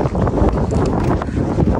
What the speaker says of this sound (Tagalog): Yung hangin pag tumama sa iyo.